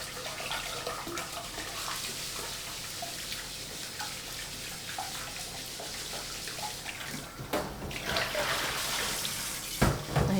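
Tap water runs steadily into a pan as rice is rinsed by hand, a continuous close hiss and splash with small swishes and a sharper slosh near the end, no voices.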